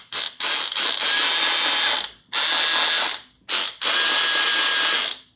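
An electric motor drives a 3D-printed drum magazine for an AK or AR rifle, whirring and ratcheting in three loud bursts separated by brief silent pauses, with no talk.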